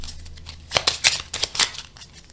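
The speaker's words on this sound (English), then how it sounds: "Then we will shuffle up and reveal the new card." A deck of playing cards being shuffled during a solo tabletop card game, a quick run of crisp riffling bursts close by with no talking.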